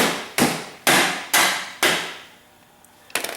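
Four sharp, evenly spaced metal hammer blows drive a bolt home on a Kawasaki Bayou 300 ATV, each strike ringing briefly before the next, followed by a pause and a lighter clatter at the end.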